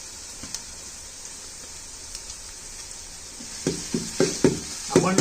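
Ginger garlic paste fries in a pan with curry leaves, hissing steadily, then stirring scrapes and clinks come in short bursts toward the end, close and clear.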